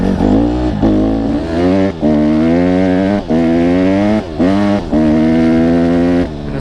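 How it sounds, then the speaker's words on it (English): A Honda CRF150RB race dirt bike engine revs hard and loud, climbing and dropping in repeated bursts with brief throttle-off dips between pulls, close by and with no talk. "this is a full-on race bike"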